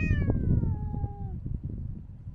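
A cat meows with a long, falling, strongly harmonic cry at a beach campsite in Baja, heard close and clear over steady wind and outdoor rumble, with no talking.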